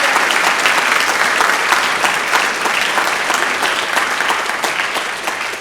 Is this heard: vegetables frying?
no